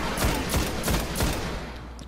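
Rapid bursts of automatic gunfire in the video game Destiny, several loud volleys in quick succession, dense and sharp, fading toward the end with no voices.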